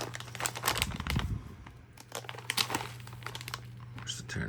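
Crinkling of a plastic MRE ration packet, the 2022 Menu 2 Spicy Oriental Chicken with Rice, as it is handled and turned over, with bursts of crackling under a person speaking and a low steady hum behind.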